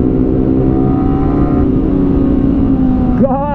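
A Yamaha R15 V3 motorcycle revs hard in a street drag race, its engine note loud and steady throughout, then dropping and rising sharply in pitch near the end as it accelerates away.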